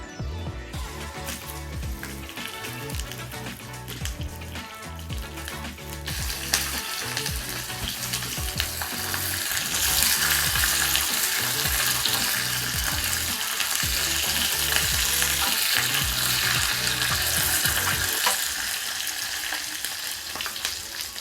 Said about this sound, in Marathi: त्यामध्ये कढीपत्ता टाकून घेलेला आहे आपण त्याचबरोबर आपण ह्या मिरच्या टाकतोय